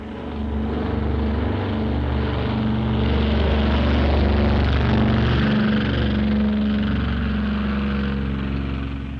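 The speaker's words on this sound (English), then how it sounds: "16 B-25s took off successfully from the Hornet's deck and headed for Japan." B-25 bombers taking off from the deck of the aircraft carrier Hornet, a loud continuous droning roar of piston engines and propellers that swells and holds steady throughout.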